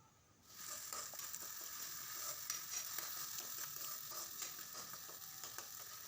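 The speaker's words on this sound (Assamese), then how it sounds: "ধুনীয়াকৈ তেল এৰালৈকে ভাজি থাকিব লাগিব।" Steady oil sizzling and crackling as spices fry in a pan until the oil separates, for an okra and mustard dish, with occasional faint scraping clicks, no voices.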